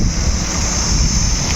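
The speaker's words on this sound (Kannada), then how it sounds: "ನೀರು ನೋಡಿ ಹೆಂಗೆ ಬಿಟ್ಟಿದ್ದಾರೆ" Water released in a strong flow for bathing at a village fair, a loud continuous rushing wash with wind buffeting the microphone, no voices.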